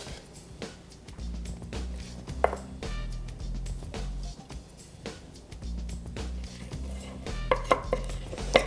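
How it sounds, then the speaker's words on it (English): A spoon stirs maple-coated popcorn in a bowl, making repeated scraping, rustling and light knocking sounds against the dish, with occasional louder clinks and a low hum underneath. "I'm going to use this spoon to mix"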